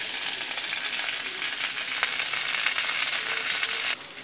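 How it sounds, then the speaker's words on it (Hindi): Soya chaap sautéing with capsicum in a pan gives a loud, steady sizzle with scraping stirs and a few clinks, easing off near the end. "इसको अब हम इस कैप्सिकम के साथ थोड़ा सा सौते करेंगे।"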